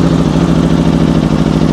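An Aprilia RSV motorcycle engine idles steadily, a loud, close, even mechanical rumble holding throughout the brief stretch with no voices over it.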